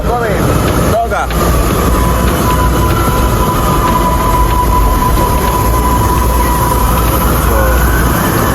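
A train arrives on a line in Panama, a loud, steady rail rumble with a long high squeal running through most of it, as voices talk nearby.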